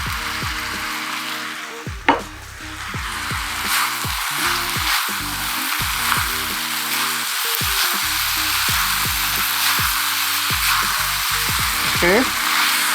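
Chicken noodles stir-fried with stir-fry sauce in a pan give a continuous loud sizzle, with repeated tossing and scraping strokes throughout and a sharp clatter near the start, heard up close with no talking.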